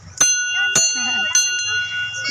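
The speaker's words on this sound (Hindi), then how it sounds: "घंटी बजा थे लइका मन बजाना" Children ringing a small metal bell during a Teej puja, three sharp bright strikes at close range with ringing tones that hang between them while voices chatter underneath.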